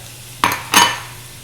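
Half a stick of butter hits a hot pan for a bechamel, giving two quick bursts of sizzle and a clatter of utensil against the pan, close and brief with no talking.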